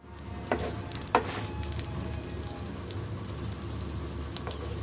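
Egg moglai fries in oil in a nonstick pan with a steady close sizzle, broken by two brief sharp pops or spatula touches near the start.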